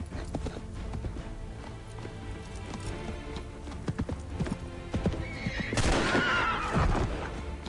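Galloping horses in an Assassin's Creed 3 chase: a dense, continuous clip-clop of hooves near and loud, with a sharp neigh breaking through near the end over rumbling game background.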